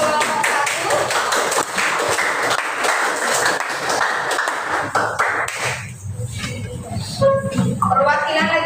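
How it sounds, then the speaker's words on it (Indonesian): A brief burst of classroom clapping for a student group after their presentation, close and under chatter, fading as a teacher's voice takes over. "Berikan tepuk tangan untuk kelompok 1."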